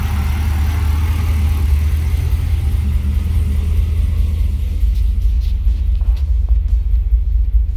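An LS V8 engine idling steadily during a coolant system purge and fill, making an even, close, continuous low rumble with no voices.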